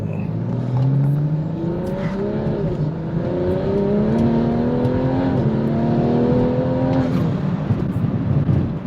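A car engine climbs steadily in pitch as it accelerates while driving, pausing briefly between gears and pulling again, loud and continuous throughout with no talking.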